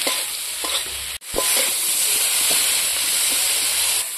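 Loud, steady sizzling of fried cauliflower and potato in hot spice paste, with stirring scrapes and a brief break partway through.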